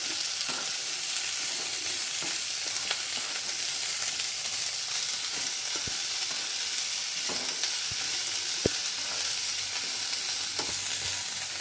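Spring onion stalk thoran being stirred in a pan, a steady soft sizzle running throughout with a few sharp scrape and tap clicks from the spoon scattered across it, no talking.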